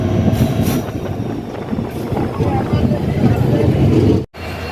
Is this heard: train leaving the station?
yes